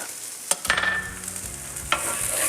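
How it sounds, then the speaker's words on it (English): Chopped onions drop into hot avocado oil in a pan and start a steady sizzle, with a couple of sharp utensil scrapes and knocks nearby and no talking. "the first thing we're gonna add in is our onions. We're gonna cook that down for a few moments."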